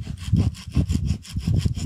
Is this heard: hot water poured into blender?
no